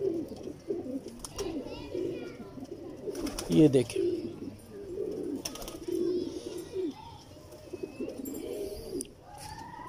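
Pigeons coo in soft, repeated low warbles close by, with a person speaking briefly amid the cooing and faint rustling.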